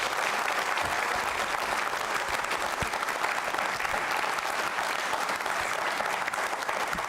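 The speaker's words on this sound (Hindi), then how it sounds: "तो तालियां बजाइए आपके लिए और आरंभ कर रहे हैं प्रश्नोत्तरी कार्यक्रम। जोरदार तालियां।" Audience at a Jain Social Group quiz show claps in a continuous, even wash of applause, many hands together at steady moderate volume with no talking.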